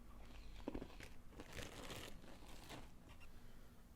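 Trail mix eaten from a crinkly snack packet, with soft plastic crinkles and crunchy chewing close to the mic, steady and quiet, with no talking.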